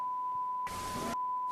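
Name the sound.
censor beep over dialogue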